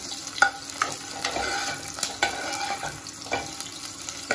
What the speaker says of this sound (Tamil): இது நல்லா ஃப்ரை ஆகி வரணுங்க.